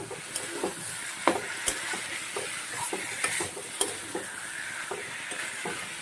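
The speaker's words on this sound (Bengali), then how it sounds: "কেটে রাখা টমেটোগুলা দিয়ে দিচ্ছি। এবার একটু ভাজবো।" Chopped tomatoes frying in a pan for a vegetarian drumstick (sajna) dish, giving a steady sizzle broken by repeated scraping stirs, close and moderately loud with no talking.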